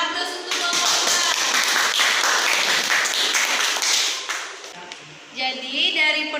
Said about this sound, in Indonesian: Beri aplaus untuk Bapak